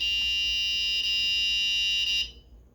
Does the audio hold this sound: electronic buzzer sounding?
yes